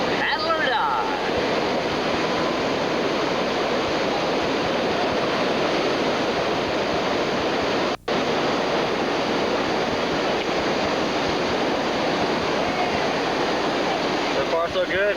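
Whitewater rapids at Needle Falls on a river rafting trip roar as a loud, continuous broadband rush, steady throughout with no clear break, and faint voices may be buried beneath it.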